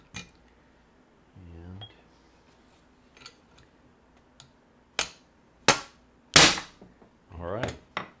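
A CO2 cartridge being pierced in a Benjamin 3620 85-shot CO2 repeater air rifle: a series of sharp, close metallic clicks and snaps with short pauses between them, plus a brief hiss near the start and a single spoken word.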